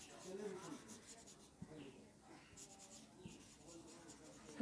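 A pen writes a math answer on paper, giving quiet, close scratching strokes with small taps in a hushed room.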